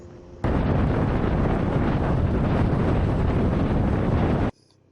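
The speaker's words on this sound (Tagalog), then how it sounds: "ang lakas ng hangin dito." Strong wind noise roars over the microphone while riding a Honda Beat scooter along a highway in the Philippines, a steady, loud blast that starts abruptly and cuts off near the end.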